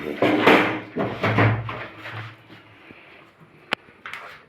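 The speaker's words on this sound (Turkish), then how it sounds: "Kapıyı aç öbür kapıyı." Someone opens a door. Muffled voices come first, then sharp latch clicks near the end.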